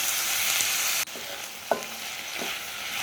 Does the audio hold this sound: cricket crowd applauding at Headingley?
no